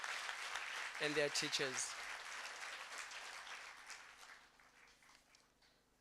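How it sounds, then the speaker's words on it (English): Audience applause at a provincial smart-province launch event in KwaZulu-Natal, a broad steady clapping that fills the room and slowly fades, with a voice speaking briefly over it near the start. "Let's just give all the learners a round of applause"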